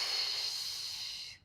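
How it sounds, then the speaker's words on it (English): A single long inhalation through the nose during a beginner Pilates exercise, a close, soft breathy hiss lasting about a second and a half before cutting off. "In breath."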